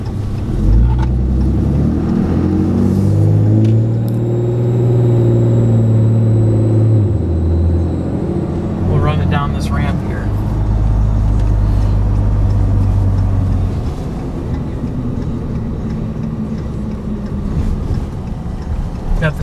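A 2014 RAM 3500 dually Laramie Mega Cab with a Cummins diesel drives on the road, its low engine drone rising and falling with shifts and road noise, loud and close inside the cab.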